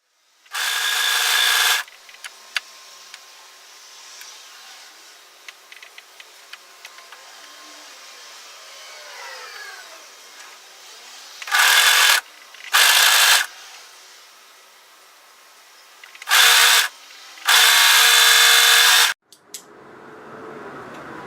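A sewing machine stitches down the side seam of a dress in a few short, loud bursts, each lasting one to two seconds. Quiet stretches with faint fabric handling and small clicks fall between the bursts.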